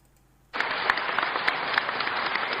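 Sustained, well-fed applause from a crowd at a panel in Ouagadougou honouring victims of the 2014 popular insurrection, starting abruptly after near silence and continuing as a dense, steady clatter with no voices over it.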